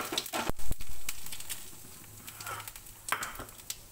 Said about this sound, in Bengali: জিরে ফোড়ন দিলাম